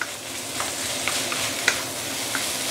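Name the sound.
frying fish bones in a pan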